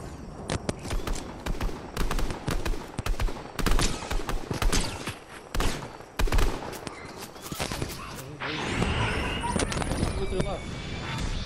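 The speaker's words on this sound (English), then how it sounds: "Oh, someone's shooting the building." Rapid gunfire strikes a building in the video game Fortnite, dense bursts of shots and impacts that come in quick clusters before giving way to a steadier, noisier stretch, with players talking over it.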